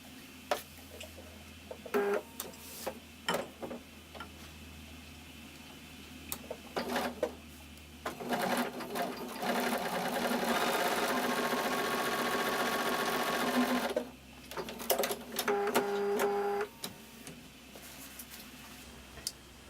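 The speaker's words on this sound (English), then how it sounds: "And we're going to stitch right on this line." A sewing machine stitches a quilt block along a marked line, with short bursts of clattering stitching followed by a long steady run, then more brief bursts, close and clear.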